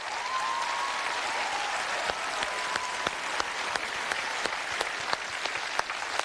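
Steady audience applause for a folk singer at a televised show, a dense, even wash of clapping from a large crowd with a few sharper claps standing out.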